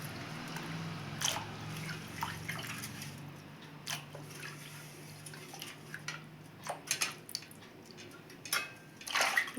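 Grapes are rinsed in clean water with soft splashes, drips and trickles, faint and close. A low hum runs underneath at first, and brief louder sloshes come near the end.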